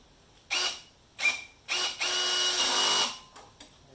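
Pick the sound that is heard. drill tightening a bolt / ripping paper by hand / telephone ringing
drill tightening a bolt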